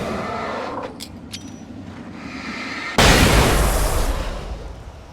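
Explosion in the video game Alan Wake, where a flashbang blows up enemies: a sudden loud boom about midway, breaking over quieter rumbling ambience and leaving a long, decaying roar.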